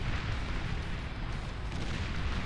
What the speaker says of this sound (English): And we do have cloakable pop-up plasma artillery.